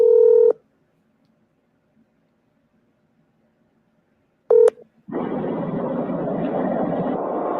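A phone call is placed with a short electronic tone, a long silence, then another brief tone burst. A steady hissy line noise follows, like a connection opening.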